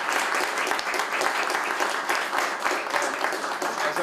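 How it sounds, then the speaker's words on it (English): A room full of people at a Boston Main Streets awards event breaks into sustained applause, dense close clapping that holds steady throughout with no talk. "I think we should give Jen a round of applause"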